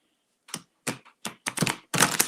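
Tarot cards being shuffled by hand during a live reading, a series of quick papery riffles and slaps in short bursts that grow busier toward the end, close and fairly quiet with no talk.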